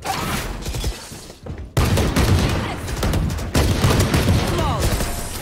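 Rapid gunfire bursts in the Valorant first-person shooter video game, dense crackling volleys close and loud with a brief gap, game effects layered over faint voice chat.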